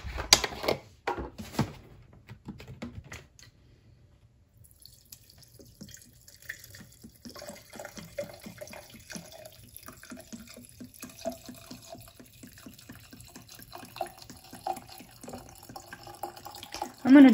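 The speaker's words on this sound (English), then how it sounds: "which is just pouring your alcohol over" Alcohol poured over vanilla beans into a glass jar, a steady close trickle and splash of liquid filling the jar with small clinks, starting after a few brief knocks and a quiet pause.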